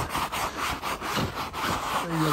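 A yellow handheld brush scrubs the fibers of sectional sofa upholstery in repeated back-and-forth strokes, a steady rhythmic rasping close to the microphone.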